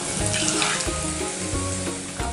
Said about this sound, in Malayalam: അതിലേക്ക് നമുക്ക് ഇതിട്ടിട്ടൊന്ന് ഫ്രൈ ചെയ്തെടുക്കാം